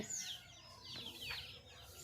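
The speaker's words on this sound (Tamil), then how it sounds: "கோழி சாப்பிட்டுக்கிட்டு இருக்கு" Faint chicken sounds in the background: soft clucks and thin high squawks against a quiet outdoor hum.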